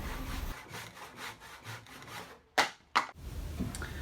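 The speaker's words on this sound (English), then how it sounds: "I'm going to finish cutting both sides with a handsaw." Handsaw cutting through a wood blank cut from a tree limb for a spoon, a run of quiet rhythmic rasping strokes followed by a couple of sharper, louder final pulls.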